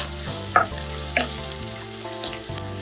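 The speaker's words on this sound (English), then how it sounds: "We're just going to let this brown really good." Chicken and a large chopped onion browning in a pan for keto butter chicken, a close, steady sizzle with a few sharp pops and a low background hum.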